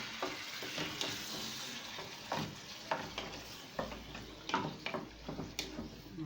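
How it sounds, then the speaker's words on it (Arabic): Liver for sandwiches frying in a pan, stirred now and then. A steady soft sizzle is broken by sharp scraping clicks from the utensil, close up and with no talking. "اقلب بقى لحد ما لونها يتغير"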